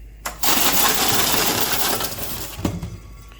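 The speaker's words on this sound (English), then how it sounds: "So if I did everything correctly, it should tape the carton." Eagle T100 case sealer running an empty carton through, a loud mechanical rumble and rattling with taping sounds, ending in a sharp clack.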